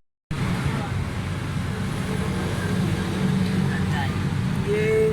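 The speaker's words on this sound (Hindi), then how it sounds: "अभी फिटिंग करके गाड़ी स्टार्ट करते हैं।" A car with a misfiring, poor-pickup engine runs after a spark plug change: a steady low engine rumble kicks in almost at once and holds throughout, with a faint voice now and then.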